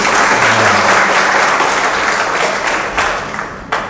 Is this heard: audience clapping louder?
yes